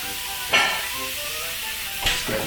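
Grilled cheese sandwiches sizzle steadily in a hot pan turned down to medium-low, a continuous close frying hiss with two sharper bursts of crackle as the bread shifts or is pressed, no voices over it.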